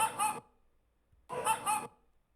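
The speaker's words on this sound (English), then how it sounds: "That's definitely the dog barking" Two barks from a dog on a suburban street, each a quick double yelp, spaced about a second apart with quiet between them.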